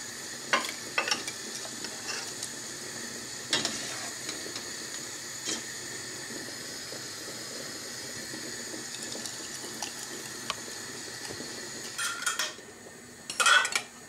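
Glass jars of marinated mushrooms receive their lids with scattered light clinks and taps against a faint background hiss, ending in a cluster of louder metallic clatter.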